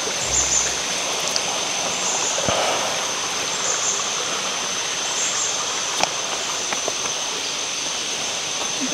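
A small stream flows steadily near a hidden waterfall at a resort in Baler, its continuous close water rush filling the scene alone, damp ground after recent rain.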